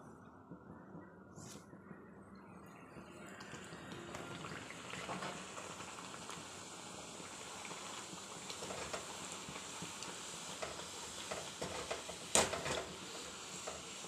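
Rolled bhature frying in hot oil make a dense, continuous sizzle that slowly grows louder, broken by a few brief sharper crackles and pops.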